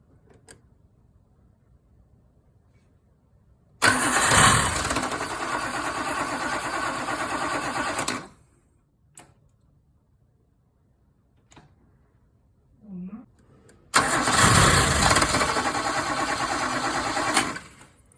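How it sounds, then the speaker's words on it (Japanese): Toyota Crown MS100 carburetted engine cranking and catching in two bursts, each running steadily for several seconds before cutting off, with a quiet gap and a brief mechanical noise between them; close and loud, no talking. "エンジンをかけてみます。"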